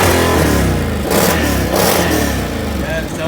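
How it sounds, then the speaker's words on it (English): A 2020 Can-Am Outlander 850 XMR ATV with its stock exhaust revs loudly, a deep droning engine note rising and falling in a couple of throttle blips, close to the microphone throughout. "This is the stock exhaust."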